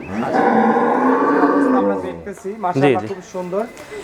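A dairy cow being sold on a farm gives one long, loud, drawn-out moo, followed by a few shorter lowing calls. People talk nearby.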